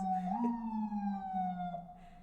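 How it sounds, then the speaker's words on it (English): An emergency vehicle siren wails in a long, slowly shifting tone on a busy New York street, somewhat distant, with low street rumble underneath and no talking. "There are always sirens going by."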